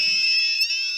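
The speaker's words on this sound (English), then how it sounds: "That's our alarm going off." A shrill electronic light sensor alarm blares continuously at close range, a loud high-pitched tone that holds steady throughout.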